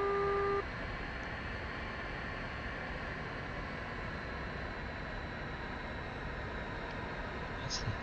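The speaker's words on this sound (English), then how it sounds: "That's just the low level alarm going off." A low-altitude warning in the DCS L-39 jet trainer flight simulator gives a brief steady two-tone beep at the very start, then cuts out under the constant loud roar of the engine and cockpit.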